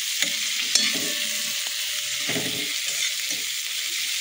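Onions fry in oil in a pan with a loud, steady, close sizzle, broken by a few soft scraping stirs.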